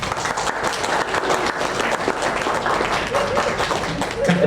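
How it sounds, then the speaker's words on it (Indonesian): Audience applause at a film competition awards ceremony in Bantul, loud steady clapping filling the whole stretch with crowd murmur and some voices underneath. "Tepuk tangan untuk Mas Bakti."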